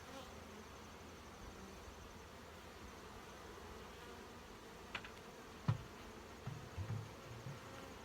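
Honey bees hum softly around an open hive in September, a faint, steady buzz with a few brief closer passes and light knocks near the end, no speech.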